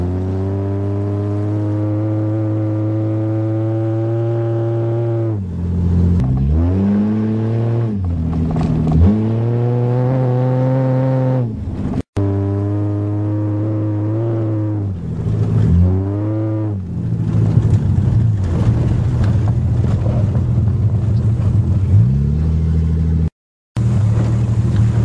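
A 1982 Toyota Cressida driving in the rain, its engine droning loudly and steadily, rising and falling in pitch through repeated gear shifts and revs, close and continuous.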